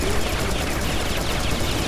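Automatic sentry gun firing in the shooter game Serious Sam: BFE, a dense, continuous rattle of rapid shots filling the whole moment at steady loudness, no voices over it.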